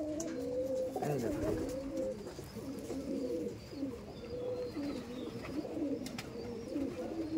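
Red Madrasi pigeons in a loft coo repeatedly and close by, soft rolling calls overlapping in a steady, continuous stream with no talking.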